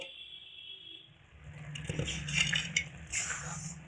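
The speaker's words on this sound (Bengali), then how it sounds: "এবার ঢাকা চাপাটা খুলে নিব" A lid comes off a pot of flattened rice cooking in milk with a soft metallic clink and scrape, followed by a few quiet utensil taps, close and fairly faint.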